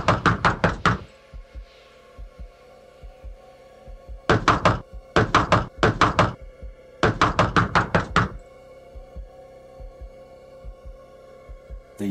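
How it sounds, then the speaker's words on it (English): Three bursts of rapid knocking on a door, each a quick run of sharp raps, separated by pauses over a low steady hum in a quiet room. "There was a knock on the door."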